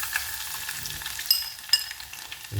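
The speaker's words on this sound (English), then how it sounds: "once it starts spluttering, which is about like now, we'll add in the garlic" Garlic frying in hot spluttering oil for South Indian mango pickle, a steady close sizzle with a few sharp crackling pops.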